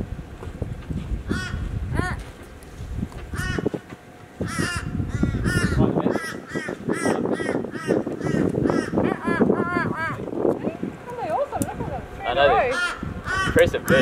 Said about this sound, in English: Impressive birds, eh?